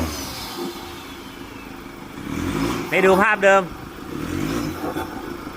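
A motorcycle engine under repair for an O-ring fault and rough vibration idles, then gives a short sharp rev in the middle before dropping back, with someone talking over it.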